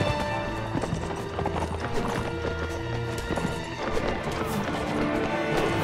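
Horse hooves thud in a fast galloping clatter amid a busy battlefield in Mount & Blade: Warband, dense and continuous under other combat noise and music.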